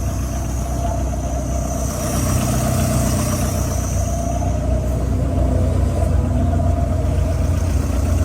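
A Lada Zhiguli 2107 engine running at a car festival, a loud, steady, close rumble with a continuous low drone and a faint higher hum layered over it, holding an even level throughout.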